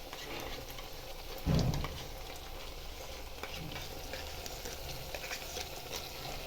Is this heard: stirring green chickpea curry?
yes